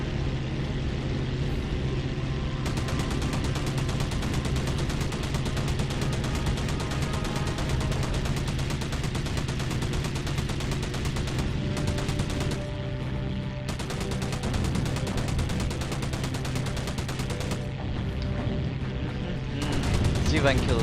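Rapid machine gun fire in the naval air combat game Battlestations Pacific, dense and continuous over droning engines and explosions, with a voice talking over it.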